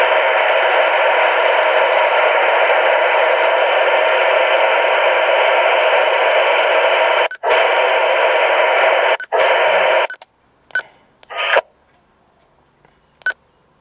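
A steady hiss of radio static from a Uniden 7760NB UHF radio scanning channels runs for several seconds, broken by short clicks and beeps, then drops to near silence with a few brief bursts of received transmissions.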